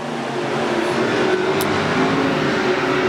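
IMCA modified race cars starting a heat race at a dirt oval raceway, a dense, loud, continuous engine roar from a pack of cars accelerating together.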